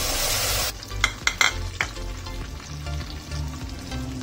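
Chicken pieces frying in hot oil for a chicken masala rice dish, a loud broadband sizzle that drops after the first moment, followed by steady bubbling with a few sharp clinks and stirring knocks from the pan.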